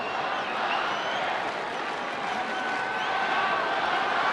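A baseball crowd at Petco Park in San Diego murmurs and cheers steadily during a September 2013 Padres evening game, a broad wash of distant stadium noise without a sharp peak.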